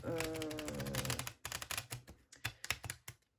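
Old Marseille tarot cards being shuffled and handled, quiet, with a smeared flurry of card riffling followed by scattered crisp taps and slaps as the deck is worked, close by and faint.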